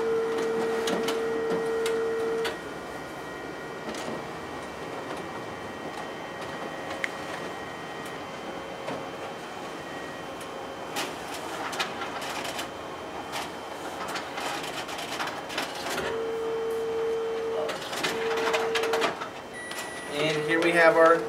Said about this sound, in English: It's a 25 page per minute multifunction color copier with network printer, network scanner.